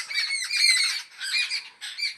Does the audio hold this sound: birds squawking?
yes